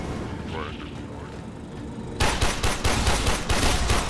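Sudden loud bursts of rapid automatic gunfire erupt in Warframe co-op combat, a steady rattling barrage following quieter game sounds, with players talking over it.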